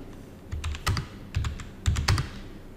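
Fingers type a search on a computer keyboard in a few short bursts of clicky keystrokes, close and moderately quiet, with small gaps between bursts.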